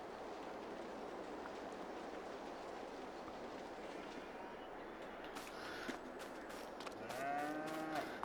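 Cattle lowing in a cow pen in Farming Simulator 22, a soft steady bed of moos and farm ambience, with a few sharper clicks and a brief higher wavering call near the end.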